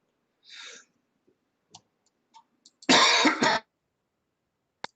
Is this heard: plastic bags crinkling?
no